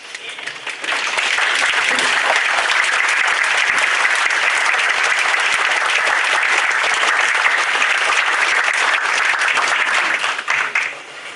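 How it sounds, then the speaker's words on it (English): A standing crowd at a September 11 remembrance ceremony applauds first responders, police officers, firefighters and EMTs, with dense, loud clapping sustained for about ten seconds before tapering off. "I'd ask that you just rise and give them a round of applause"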